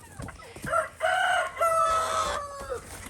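Farm chickens clucking and a rooster crowing at feeding time, several drawn-out calls in a row, close and fairly loud over a quiet yard.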